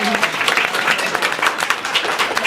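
Brief round of applause from an office staff audience at a probate law event, dense steady clapping that holds evenly for a couple of seconds.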